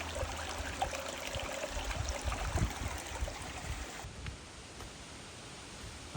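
Water from a mountain stream on the Long Trail pouring into a bottle, a steady rushing trickle that is louder at first, then thins to a quieter flowing hiss once the bottle comes away.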